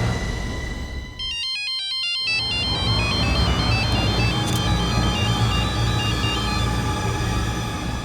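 A telephone ringtone chimes in a repeating electronic melody, loud and continuous over a background hum.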